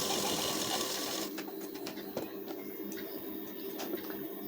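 Sewing machine stitching a blouse, a steady loud whirr that cuts off after about a second, followed by quieter scattered mechanical clicks and ticks.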